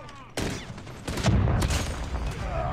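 Desert Eagle pistol shots in a first-person shooter game, a few sharp blasts in quick succession with an echoing tail, loud and close under game noise.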